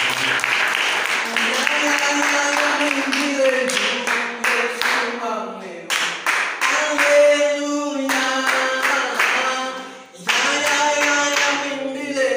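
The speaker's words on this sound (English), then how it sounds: "Clap for Jesus." A church congregation claps steadily through most of the stretch alongside loud singing voices, dipping briefly near the end before the clapping resumes.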